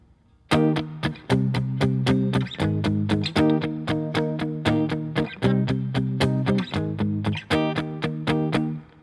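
Electric guitar strumming a chord progression, clean and steady with repeated rhythmic chord hits and short sustains over about nine seconds, no voices.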